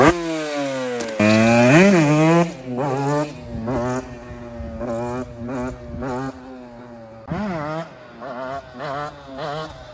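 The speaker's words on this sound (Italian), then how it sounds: "lo scarico originale devo dire che fa un po' cagare così" A KTM 125 motorcycle revving close up, its exhaust rising and falling in repeated sharp bursts of throttle with a raspy, buzzing two-stroke tone between short pauses.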